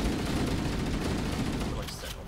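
Sentinel energy weapons fire continuously in Halo: Combat Evolved Anniversary, a dense, loud, steady wash of game combat noise that tapers slightly near the end.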